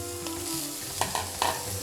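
Thinly sliced papaya goes into a hot pan for a Kerala-style stir-fry: a loud, close sizzle with several sharp clatters as the pieces are tipped in and shifted, and no voices.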